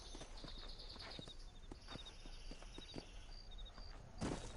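Horses' hooves clip-clop steadily in the Red Dead Redemption video game, a continuous walking rhythm of several animals under light ambient noise, with a louder burst near the end.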